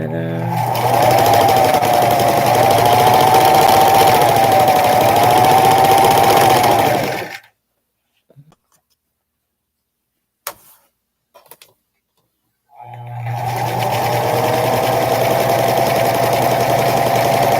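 A sewing machine runs steadily for about seven seconds while stitching a quilt seam, then stops for a quiet gap with a few small clicks before it starts up again and keeps going.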